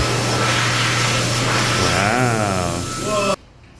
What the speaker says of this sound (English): Oh, look at this Canadian hand dryer.